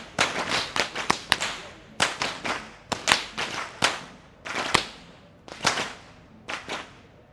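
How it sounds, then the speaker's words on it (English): Whip crackers at the Kandy Esala Perahera procession snap long whips in sharp, loud cracks, often in quick pairs or triplets, repeating through the clip in a rough rhythm with no talk. "the sound of whips symbolizes the thunder which precedes the rain."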